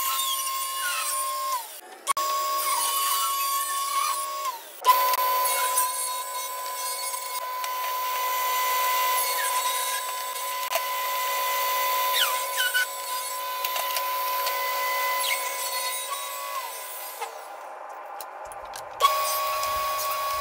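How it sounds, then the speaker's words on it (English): Walnut being ripped into one-inch strips on a power saw, a loud sustained whining drone with steady tonal hum, interrupted by brief pauses and restarts as each cut begins and ends. "I'm gonna get this ripped down into 1-inch strips, see what I've got."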